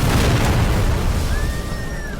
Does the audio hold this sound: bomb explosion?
yes